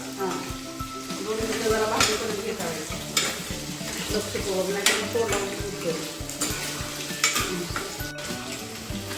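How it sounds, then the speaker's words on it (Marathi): Masala frying for a spicy mutton dish crackles and pops in a hot pan, with a dense sizzle and scattered sharp pops amid clinks of a spatula against metal, close and continuous. "झालं दोन मिनटं परतून ते असं फुटतं"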